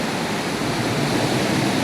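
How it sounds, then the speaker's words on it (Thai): Indoor waterfall pond at Siam Paragon in Bangkok, a steady, dense rush of falling water filling the space evenly, loud and unbroken, with no voices. "พาไปชมบึงน้ำตก"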